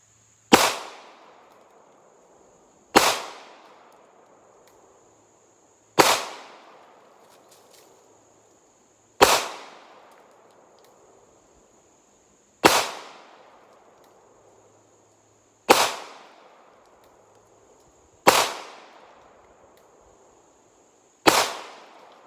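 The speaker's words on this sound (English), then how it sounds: "We're gonna step back about 12 yards, put 8 rounds in it, see what kind of accuracy we can get." A CZ P07 pistol fires eight single shots at a target from about 12 yards, each crack loud and sharp with a short decaying echo, spaced roughly every three seconds outdoors.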